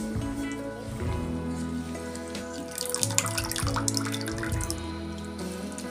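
Potatoes are washed by hand in a bowl of water, with continuous sloshing, splashing and dripping close by and no talk.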